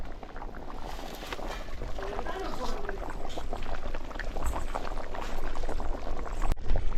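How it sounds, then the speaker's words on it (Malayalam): Steady bubbling and simmering of a large pot of curry made with 10 kg of chicken, a dense wash of gurgling that grows slightly louder toward the end, with a brief click near the close. "അപ്പോൾ നമ്മുടെ ചിക്കൻ കറി നല്ലപോലെ തിളച്ച് വന്നിട്ടുണ്ട്"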